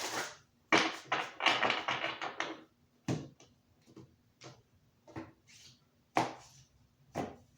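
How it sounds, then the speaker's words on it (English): A deck of tarot cards being shuffled, a run of crisp, rapid riffling clicks and flutters at the start, then separate sharp card snaps and taps, close and alone. "One more shuffle."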